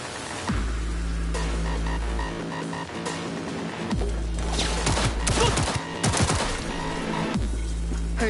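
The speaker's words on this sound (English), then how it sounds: "Heard shots." Gunfire erupts in Cyberpunk 2077: bursts of sharp shots and rapid volleys over a low rumbling drone, loud and close, repeated in clusters across the scene with no talk.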